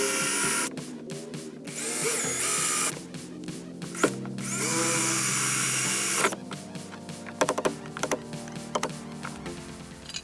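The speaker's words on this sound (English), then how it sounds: "remove the old threaded plate by drilling out all 6 of the aluminum rivets" Power drill boring out the six aluminum rivets holding an old threaded drain plug plate on a fishing boat transom, in several sustained whining bursts separated by pauses, then short clicks and taps as the work continues.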